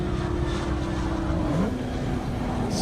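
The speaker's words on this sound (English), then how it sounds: "Beautiful GTR making its way down." A Nissan GT-R race car moves along an airstrip at a half-mile speed event, a steady engine drone whose pitch rises and then slides as it passes, heard alone at a moderate distance.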